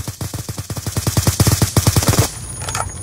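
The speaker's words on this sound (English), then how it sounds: "I just have to randomly shoot" Rapid automatic gunfire from a first-person shooter game, about twenty evenly spaced loud shots in a steady burst that stops abruptly, leaving a faint ringing tail.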